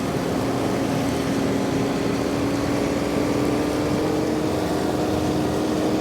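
A 46-horsepower tractor engine drones loud and continuous with a steady low hum and rough mechanical rumble, straining without pause as a 10-foot flexwing mower cuts heavy fescue.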